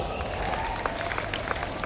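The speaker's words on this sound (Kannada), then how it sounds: "ದೊಡ್ಡ ಚಪ್ಪಾಳೆ ಮುಖಾಂತರ ಎಲ್ಲರಿಗೂ ಒಂದ್ಸಲ ವೆಲ್ಕಮ್ ಮಾಡ್ರಿ" An audience at a school annual day for Divya Jyothi English School in Varthur claps steadily in a dense, continuous wash of applause, with faint crowd murmur underneath throughout.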